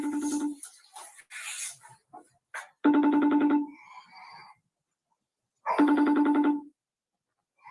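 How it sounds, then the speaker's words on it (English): A telephone ringback tone sounds twice through a phone speaker after a number is dialed, each ring a buzzy burst of about a second separated by silence, with brief speech before the first. "So I'm gonna dial his number up."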